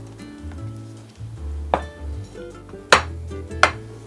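Jamón paella is scooped and served onto a plate, with a few sharp clinks of utensil against dish over a soft background hum.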